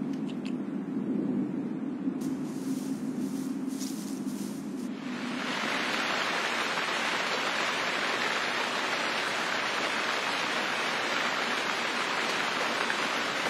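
Steady rain falls in a dense, hissing wash that starts after a few seconds of lower rumbling and continues evenly to the end.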